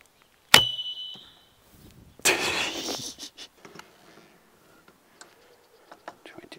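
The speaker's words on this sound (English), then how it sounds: "of course we have to test the whistle arrow" An arrow fitted with a whistle is loosed from a Kaya Black K Korean bow: a sharp snap of release, then a brief, bright whistling whoosh as it flies off, followed by faint scattered ticks and quiet background sounds.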